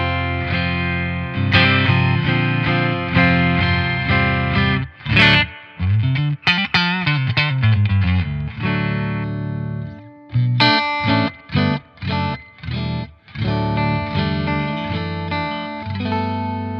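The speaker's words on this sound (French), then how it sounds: "Sur l'ampli, j'ai juste un peu de reverb à ressort parce que j'adore le son de cette reverb." A clean electric guitar plays through an amplifier with spring reverb, ringing chords and quick plucked runs in a lively rhythm, loud and alone with no voices.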